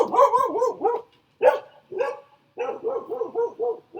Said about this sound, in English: Don't be alarmed. It's a dog.